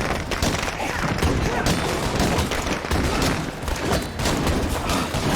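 Dense, rapid gunfire rattles almost continuously in the Heartland video game, loud bursts overlapping into a sustained barrage.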